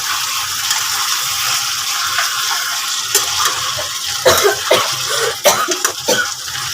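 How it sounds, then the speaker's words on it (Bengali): Someone coughs a few times in a home kitchen while fish and chicken are being cooked; the short, sharp bursts come midway and near the end over a steady background hiss, with no talk. "এদিকে কাশছে, কি কাশছে?"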